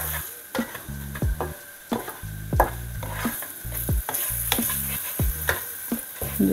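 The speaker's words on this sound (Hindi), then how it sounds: "ये सारे मसालों को हम थोड़ा सा फ्राई करेंगे।" Anardana powder and chaat masala frying in a pan, with a bright continuous sizzle broken by regular rhythmic stirring strokes and low knocks of the spoon against the pan.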